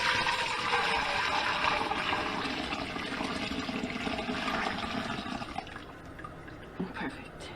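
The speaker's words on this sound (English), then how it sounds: "Now I'm pouring it through one more time." Beef stock made from fatty bones poured through a strainer, a steady close splashing stream of liquid that tapers off toward the end.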